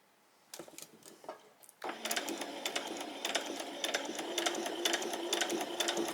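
A sewing machine stitches fabric slowly for a pleated top, starting with a few soft clicks, then running in a close, continuous rapid chatter of stitching with slight variations in pace.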